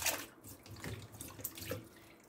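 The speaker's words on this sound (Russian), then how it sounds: "Хорошенько теперь смываем соду с арбузных корочек." Tap water runs and splashes in a sink as baking soda is rinsed off watermelon rinds for watermelon-rind jam. The gurgling, fluctuating stream is close and continuous, with no talking.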